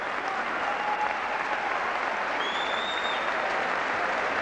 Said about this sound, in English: they're applauding like a good neutral crowd for the contest